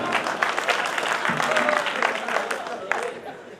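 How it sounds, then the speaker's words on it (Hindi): A crowd at a Hindi-language public gathering applauds, a sustained patter of many hands clapping at moderate volume, with talk and voices mixed in beneath the clapping. "इनके लिए भी तालियां बजाओ प्लीज"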